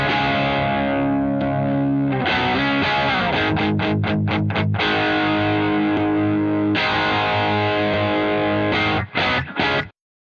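Distorted electric guitar boosted by a Taurus Amplification Servo 2 pedal with the warm switch off, played alone in loud sustained chords broken by several quick staccato stabs, ending in choppy bursts and a cutoff.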